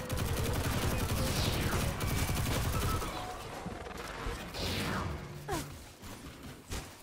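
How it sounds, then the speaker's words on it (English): Rapid automatic gunfire in the video game Destiny 2, loud and dense for the first few seconds, then thinning into scattered shots, whooshes and mechanical clicks as the action continues. "Who's shooting me?"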